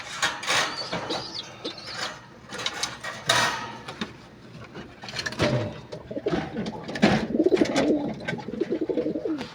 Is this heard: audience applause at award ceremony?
no